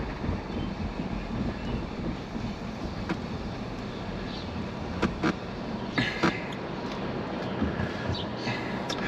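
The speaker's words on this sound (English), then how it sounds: "Why am I hearing a brake-like noise?" An old car driving along with a grinding, brake-like noise, heard as a continuous rumbling road drone with intermittent scraping clicks and rattles near the cabin.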